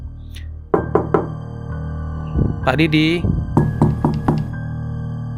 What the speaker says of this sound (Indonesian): tiba-tiba terdengar suara orang mengetuk.